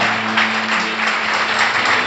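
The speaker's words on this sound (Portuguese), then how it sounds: "Você pode dar mais um aplauso ao Senhor Jesus?" A church congregation applauds during a worship service. The clapping is sustained, diffuse and even throughout, with a low steady hum running beneath it.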